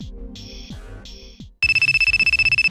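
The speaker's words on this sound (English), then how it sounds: "Wow, your phone's blowing up. That's a ton of missed calls." A mobile phone rings with an incoming call. The ringtone comes in loud, rapid, evenly pulsing bursts near the end. Before it, other electronic tones sound in short chirping bursts.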